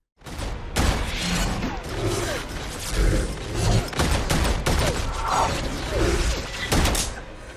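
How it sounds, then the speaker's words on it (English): Gunfire in a movie action scene crackles in sharp bursts amid thuds, mechanical clatter and a tense score, loud and busy throughout. "At the perfect moment, Agent Callie shoots"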